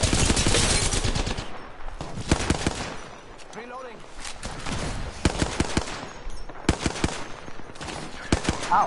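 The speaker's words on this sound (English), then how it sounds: "They're shooting me. They're shooting me, bro." Repeated bursts of automatic gunfire in Apex Legends crackle loud and close, broken by short gaps, with players talking over parts of the shooting.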